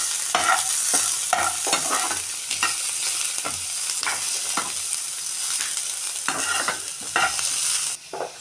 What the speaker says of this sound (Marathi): आतां हांव हाका पियाव घालून घेतस. हें आतां भाजून घेवया.